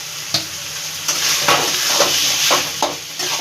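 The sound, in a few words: potatoes frying and being stirred in spiced oil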